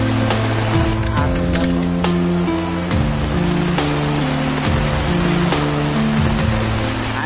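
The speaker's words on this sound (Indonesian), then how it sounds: "Hujan deras lebat, suasana mencekam." Heavy, dense rain pours as a constant loud roar of hiss and splatter under dark clouds, continuous throughout, with a low droning hum running beneath it.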